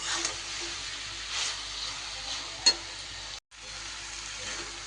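Vegetarian cabbage curry with new spices frying in a pan while being stirred, a soft steady sizzle with light scraping, one brief clink and a short gap near the end, no talking.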